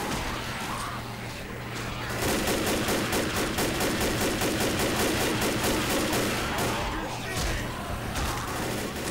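Steady rapid gunfire in the zombie shooter Left 4 Dead, rattling bursts running almost continuously over several seconds, loud and close, with players' voices and game sounds mixed in underneath.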